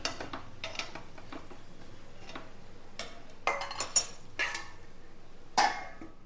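A spoon stirs dough with ghee in a pan on a low simmer, giving sparse, faint scraping clicks and taps of metal against the pan at irregular intervals.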